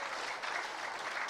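A church congregation claps together in steady, dense applause, soft and somewhat distant, with no voices over it.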